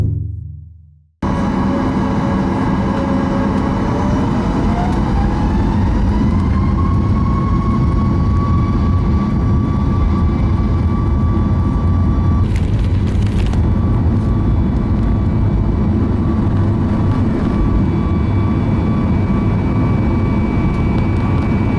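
Steady, loud airliner cabin drone on a flight to Kashgar, a constant low engine roar with a faint rising whine early on, continuous throughout with no talking.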